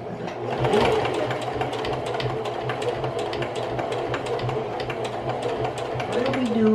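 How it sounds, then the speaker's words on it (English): Sewing machine stitching stripes onto fabric, a fast continuous mechanical whir and rapid needle ticking that runs steadily throughout, close and fairly loud, with faint voices underneath. "We are sewing that thing on."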